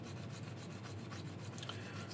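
Continuous sandpaper rubbing on a T-800 endoskeleton arm part, working through grits up to 180, giving a steady close rasping scrape with no pauses and no voices.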